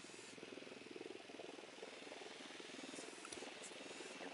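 In the tactical shooter Ghost Recon Wildlands, an approaching helicopter gives a steady, loud throbbing rotor drone with a low engine rumble that holds throughout, with no talk.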